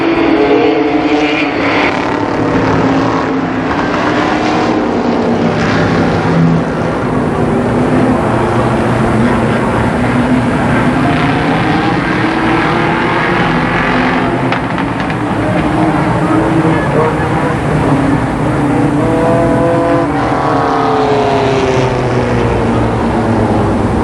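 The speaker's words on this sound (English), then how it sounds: "Racing laps." Race cars lapping Columbus Motor Speedway at a 1991 Race of Legends event, a continuous loud engine roar that rises and falls as the cars pass, with talk running over it throughout.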